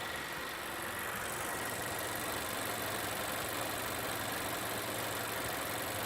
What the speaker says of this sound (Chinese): 这就是它发动机外面的一个噪音。